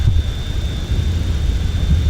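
Steady loud jet engine roar from a Boeing 737-500 at takeoff thrust in a flight simulator game, with a low rumble and a thin high whine holding constant throughout.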